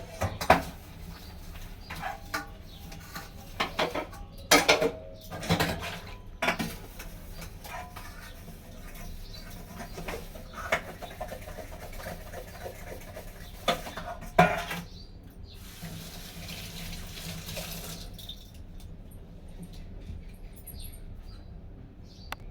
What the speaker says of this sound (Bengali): এত বড় ফ্যামিলি তো আমাদের প্রচুর বাসন পড়ে, প্রচুর কাঁচা পড়ে, প্রচুর রান্না পড়ে।